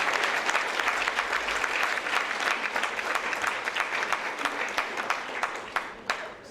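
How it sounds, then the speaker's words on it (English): Guests at an annual gala give a big round of applause to the event's organisers, a thick wash of many clapping hands that thins slightly toward the end, where a few individual claps stand out. "I think they deserve a big round of applause"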